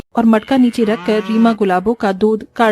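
Buffalo mooing in a village story: a loud, close, drawn-out lowing call with a steady, harmonic-rich tone, heard alone without speech.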